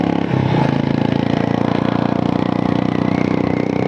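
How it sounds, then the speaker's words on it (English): A motorcycle on a Himalayan road engine-brakes with rev-matched downshifts, a loud close engine note that blips up early then settles into a steady, slightly clattering drone. "the brother knows how to do engine braking with rough matching"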